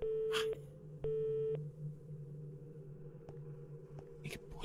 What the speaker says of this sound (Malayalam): ആന്റോ ഫോൺ എടുക്കുന്നില്ല